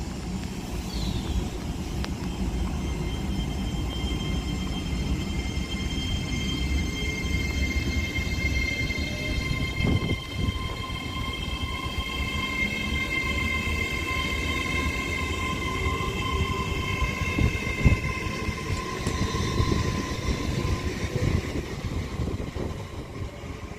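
Avanti West Coast train 807 008, a 10:54 service to London Euston, pulls away from Liverpool South Parkway on the West Coast Main Line; a steady, loud rumble and hum builds with rolling wheel noise and a faint high whine, with no talking.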